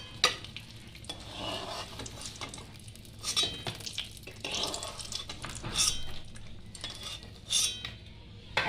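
Fried eggplant slices lifted out of hot oil in a pan, with soft ongoing sizzling and scraping, clinking utensil sounds against the pan, close and moderately quiet.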